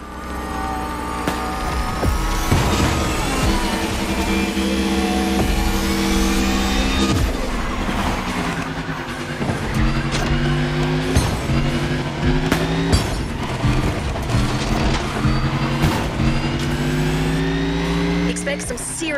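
Race car engines in The Crew Motorfest driving game roar and rev continuously, with rising and falling gear-change whines throughout and someone talking over the engine noise.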